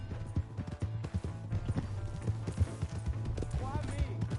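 A horse gallops in Red Dead Redemption 2, its hooves clip-clopping in a quick steady rhythm close by, with voices speaking over it.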